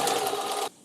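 A sewing machine stitches through fabric in one brief, close whirring run that stops abruptly.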